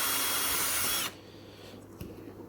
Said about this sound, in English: just drill a hole in the top